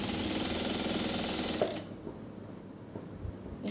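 Sewing machine stitching along the cut edge of a neck design on fabric, a steady loud mechanical whir for about half the clip, then stopping into quieter handling sounds with a few light clicks.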